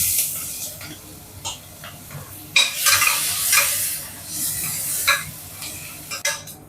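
Onions frying in a pan with fennel powder, stirred with a spoon: a steady close sizzle broken by repeated scraping strokes and short bursts of hiss as the pieces are turned.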